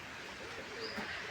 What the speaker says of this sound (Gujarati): તો અહીંયાથી આપણે બધા કબૂતર બેઠા છે